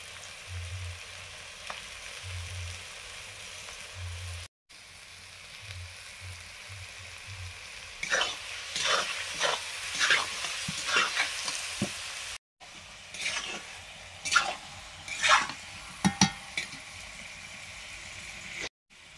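Meat frying with spices in a kadai: a low hum fills the opening seconds, then crackling sizzle and scraping stir strokes build up in the second half.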